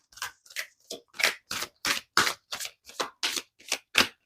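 A deck of affirmation cards is shuffled in about thirteen crisp, evenly spaced riffling bursts, close and clear with no talking.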